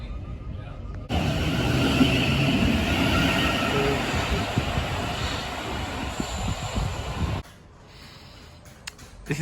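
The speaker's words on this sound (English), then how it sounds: "I have missed the train I was intending to catch." Thameslink train at Crofton Park station, a loud sustained rumble and rush of passing carriages with faint wheel noise lasting several seconds, then dropping away to quieter platform ambience.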